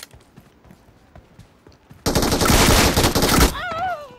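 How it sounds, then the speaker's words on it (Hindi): A loud, sustained burst of rapid gunfire with a shotgun in play erupts after a quiet, faintly ticking stretch in a mobile battle royale game, cuts off after about a second and a half, then gives way to warbling electronic tones. "मैं पहले प्री फायर देता हूँ, प्री फायर देने के बाद सीधा मैं शॉटगन पकड़ के घुस जाता हूँ।"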